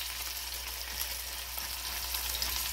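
A potato chip crusted steelhead fillet fries in a pan with a steady, close hiss and sizzle, constant and unbroken with no talking.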